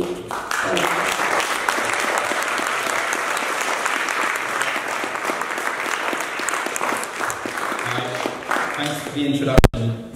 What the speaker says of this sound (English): Please give him a big, big applause.